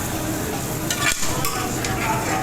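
Spices stirring and frying in a pan: a steady, dense sizzle runs throughout with soft scraping strokes of stirring layered on top, close and fairly loud, no talk.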